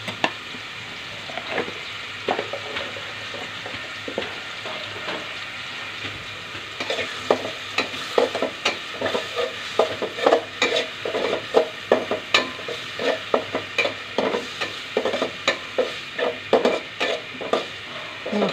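Turmeric and coriander spice mix sizzles in a pan, a steady hiss broken by repeated scraping and stirring clatter that grows busier and louder toward the end.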